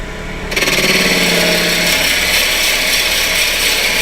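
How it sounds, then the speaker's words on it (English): A wood lathe runs at about 800 rpm, a loud, steady mechanical whirr and chatter that starts abruptly and keeps going with a constant, rattling texture. "I have the lathe speed on this right about 800 is what I'm running at"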